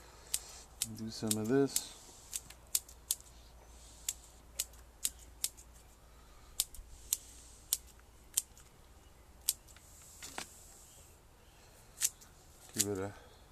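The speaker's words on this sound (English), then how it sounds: "Okay, then grab my scissors." Sharp scissor snips trimming the roots of a parrot's beak bonsai, about a dozen crisp cuts spaced irregularly, close by, with a brief spoken remark near the start and end.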